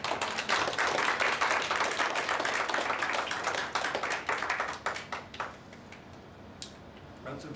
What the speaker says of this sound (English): that little smattering of applause